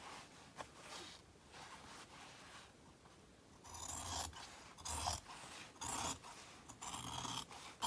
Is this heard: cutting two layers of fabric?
yes